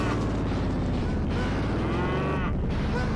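A cow moos in the video game Carmageddon 2, a deep, drawn-out bellow heard close and loud over dense, constant engine and game noise.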